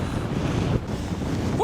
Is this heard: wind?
yes